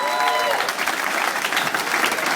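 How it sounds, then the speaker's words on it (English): Audience applause closing a comedy show, a dense continuous wash of clapping from a full room, loud and sustained throughout. "a huge round of applause for our Bieber"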